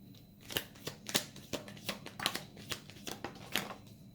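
Tarot cards being shuffled by hand, a rapid series of crisp slaps and riffles at close range in an otherwise quiet room.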